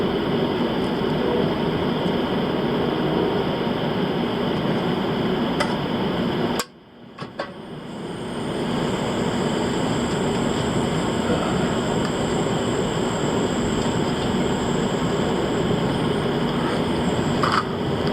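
Amtrak Cardinal passenger train rolling along rails: a steady rumbling ride with faint rhythmic ticking, broken by a sudden brief drop into near silence before the low roar builds back up and continues.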